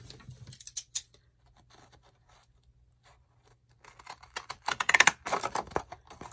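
A few quick snips of scissors, then a burst of rapid crisp cutting and rustling of paper, close up and without speech.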